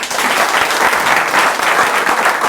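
A studio audience breaks into sustained applause on a talk show, a dense, loud wash of clapping that holds steady throughout.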